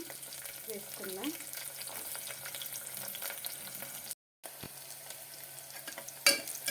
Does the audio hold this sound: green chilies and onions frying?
yes